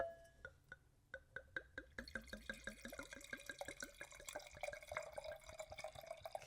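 A drink is poured, opening with a run of separate drips that quickly thicken into a steady glugging, splashing stream, faint and close with no voices.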